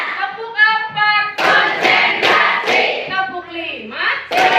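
A group claps together in a counted clap pattern at a classroom-style session, sharp clap bursts arriving in short rhythmic groups between a leader's spoken counts, with voices talking over much of it.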